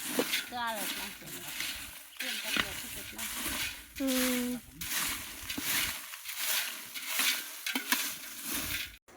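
Steady sizzling and stirring in a hot pan as chilies roast for Solapuri black chili masala, with a voice speaking over the frying noise.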